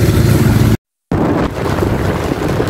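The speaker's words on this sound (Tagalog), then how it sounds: "medyo malakas pa rin yung hangin" Loud, roaring typhoon wind buffets the microphone continuously, broken by a brief moment of silence before the gusting resumes.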